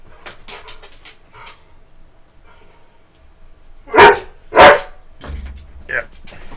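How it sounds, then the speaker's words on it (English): A pet dog barks twice in quick succession, loud and close, inside a home, with a person talking before and after the barks. "that's the dog"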